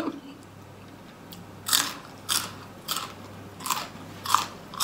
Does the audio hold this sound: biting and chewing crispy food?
yes